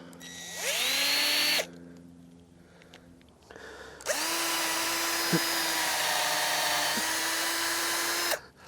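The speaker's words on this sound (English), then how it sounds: "We'll just drill at a little bit of an upward angle." A power drill whirs loudly in two bursts, a short one then a longer steady run, its pitch dipping as the bit bites into the wood of a black walnut tree, drilling at a slight upward angle.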